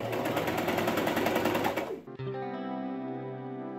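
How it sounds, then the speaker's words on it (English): A sewing machine stitches a seam on a dress collar with a fast, steady motor hum and needle rattle for about two seconds, then stops abruptly, leaving a low sustained tone. "sewed it together with a 1/4 inch seam allowance"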